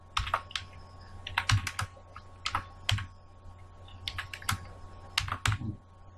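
Close, crisp keystrokes on a computer keyboard come in short bursts of clustered clicks separated by brief pauses.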